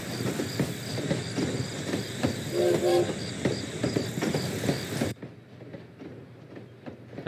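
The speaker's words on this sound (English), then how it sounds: "Oh, we're starting off on a train." A train rolls along in the video game Potion Permit, with a steady rumbling clatter of wheels and carriage noise that cuts off abruptly, leaving a quiet room tone.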